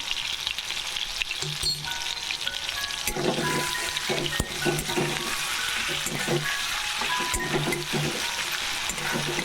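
Tomato and salt fry in a pan for a cabbage curry, a steady sizzle and crackle with occasional stirring scrapes and clinks, close and continuous.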